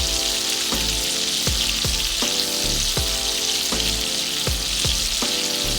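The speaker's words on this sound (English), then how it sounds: "Let your garlic cook down." A rib eye steak sears in a pan with butter, garlic, rosemary and fresh thyme. A dense, constant crackling sizzle runs loud and close throughout without a break.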